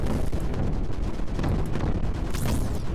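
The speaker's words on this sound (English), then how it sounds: "Those mortars are pretty extreme." Mortar fire in the video game Creeper World 4 pounds in dense, overlapping booms and crackling impacts, a loud continuous barrage with a whistling sweep near the end.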